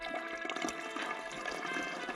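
Water trickles and dribbles out the bottom of a self-wicking plant container as its reservoir fills, a soft, continuous, splashy flow heard close and alone.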